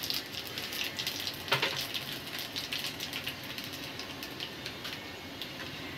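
Dried red chillies and nigella seeds sizzle in hot oil with a continuous crackling hiss and scattered sharp pops, close and moderately loud.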